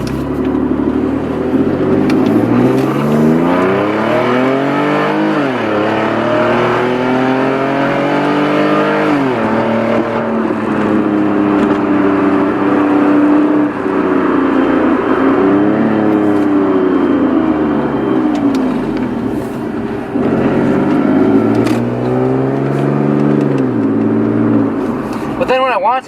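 Cabin view of a car with a modified exhaust revving repeatedly, engine note rising and falling in waves over a steady loud drone, close and continuous throughout.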